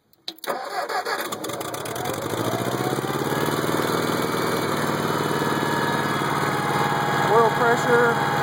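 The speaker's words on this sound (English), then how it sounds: "Oil pressure's running 60 and it's idling pretty low." A cold Vermeer M450 backhoe engine starts with a brief crank, then settles into a steady, low, close idle that runs throughout, with a faint squeal near the end.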